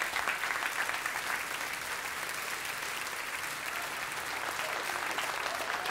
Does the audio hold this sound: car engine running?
no